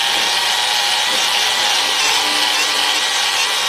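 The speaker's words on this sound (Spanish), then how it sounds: "cepillo de púas de alambre y limpio bien esa pieza" A wire-bristle brush scrubs a cast iron part, making a loud, continuous, harsh rasping scrub close up with no pauses.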